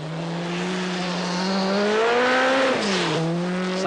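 Peugeot Group B rally car at the 1986 Swedish Rally, engine note climbing loud and close as it accelerates, then a quick dip and recovery as the driver shifts or lifts.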